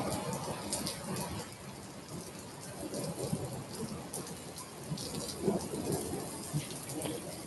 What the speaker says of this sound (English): how you think of falling asleep when there's loud ass thunder going on right now